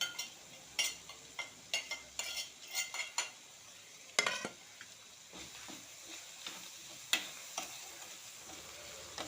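Chicken with thinly sliced onion frying in a pan, stirred with a utensil that taps and scrapes the pan in a quick irregular rhythm over a faint sizzle, close and quiet with no talk.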